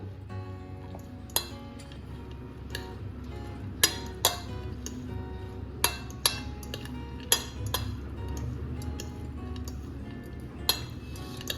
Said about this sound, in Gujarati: અને હવે આપણે આ જે કચુંબર છે એને ચમચીની મદદથી આ રીતે મિક્સ કરી લઈશું।